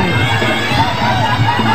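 Large crowd of fans at a Khmer boxing match, Sok Rith against Theara, roaring and cheering continuously at full volume, a dense steady wash of many voices with no gaps.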